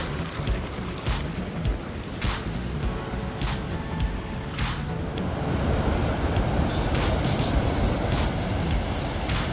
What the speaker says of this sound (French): La rivière d'Ain.